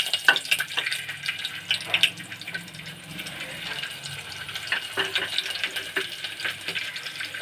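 Garlic frying in hot oil for the tempering of a tamarind-leaf chutney crackles and hisses steadily up close, with clinks and splashy kitchen noises scattered through and faint talk in the background.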